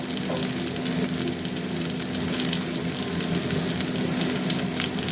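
Prawn curry spices with turmeric, chili powder, salt and chopped tomato fry in a pan, giving a continuous close hiss and sizzle with faint stirring and no talking.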